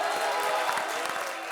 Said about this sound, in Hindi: इसी बात पे ठोको ताली।